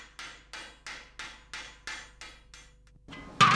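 A coppersmith shapes the rim of a copper pot with hammer and mallet, striking about nine sharp, evenly spaced metallic blows with short ringing decays, followed by a brief pause and a heavier final hit.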